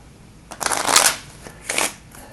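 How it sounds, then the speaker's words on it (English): Deck of playing cards riffle shuffled twice up close, a crisp fluttering burst of about half a second followed by a shorter second riffle. "so let's mix these really well"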